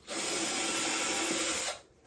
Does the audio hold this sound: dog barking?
no